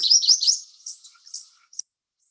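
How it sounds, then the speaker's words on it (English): A black-crested warbler, a tropical bird in the Andes mountains of Colombia, gives a quick series of high, thin chirps that trail off into a few fainter notes, close and clear against silence. "Another shot of the black-crested warbler."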